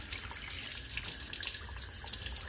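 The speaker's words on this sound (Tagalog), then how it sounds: "ito lumalabas yung tubig dito" Water trickles and splashes out of a carburetor being cleaned, a faint continuous hissing flow with small drips and spatters close by.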